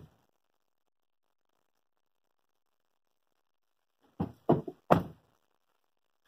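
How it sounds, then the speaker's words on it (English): A car door on a Ford Edge closes with a few quick thumps and knocks, close and fairly loud after a stretch of near silence. "And close the door."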